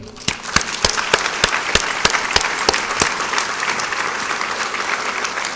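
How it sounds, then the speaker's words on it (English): Town hall meeting audience on heroin and opiates applauds themselves, a steady crowd of claps with sharp distinct hand slaps standing out near the start, fading gradually over several seconds. "I want to have you end by giving yourselves a hand"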